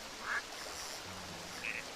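A duck quacks twice in Legend of Zelda: Twilight Princess, short faint calls spaced apart over a steady hiss of rain at a fishing pond.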